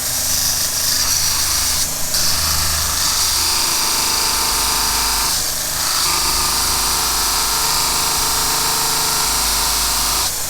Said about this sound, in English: I think I gotta just go ahead and grind it straight down for a little bit here.